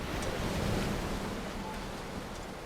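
Ocean waves wash steadily with a broad, constant roar of surf and water in the game Dear Esther, close and continuous with a faint wind-like hiss, no voices.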